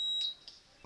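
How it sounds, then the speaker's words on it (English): An Arduino piezo buzzer sounds when a push button is pressed, giving a short, high electronic beep and then a second faint blip. The tone is close and clear over quiet background hiss. "buzzer. So it was actually working."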